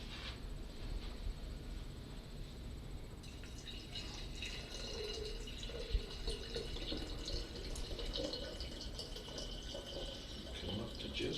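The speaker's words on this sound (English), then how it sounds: "Now I need to add a little more water to top that off." Water is poured into a mead bottle to top it off, a faint, continuous trickle and splash that swells partway through, close by and with no talk.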